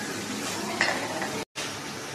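Ghee added to biryani rice in a pot, giving a steady close sizzle with soft stirring scrapes throughout and one brief gap of silence.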